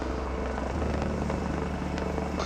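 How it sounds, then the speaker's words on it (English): A mountain rescue helicopter in Glencoe in the Scottish Highlands, its loud rhythmic rotor thumping and turbine whine running steadily close by with no one speaking. "He'll now be rushed to hospital by helicopter."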